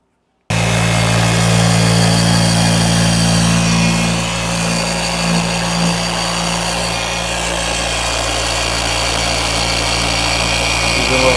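A machine polisher working car paint to a gloss, a steady close mechanical whir with a low hum that holds throughout at an even level.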